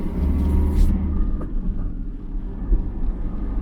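A Honda CB500 motorcycle rides along the road with a low, steady engine rumble and wind noise, close and continuous.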